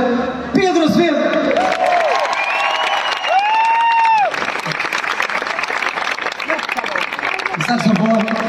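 A large outdoor concert crowd at a show in Portimão applauds and cheers a trumpet player, with sustained clapping, whoops and a few shouts, plus a loud whistle-like tone and a voice over the noise.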